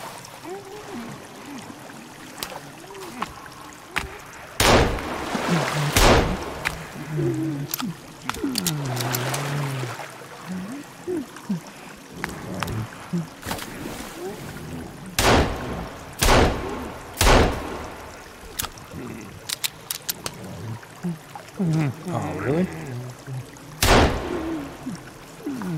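A character swims through water in the survival game Sons of the Forest, with splashing strokes, trickles and heavy thuds breaking out in irregular bursts while a voice talks intermittently throughout.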